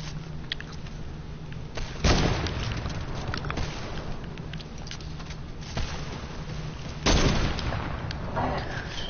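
Gunfire in a PS4 video game, with two sharp loud shots cutting through steady crackling and rapid patter, while people talk over the action.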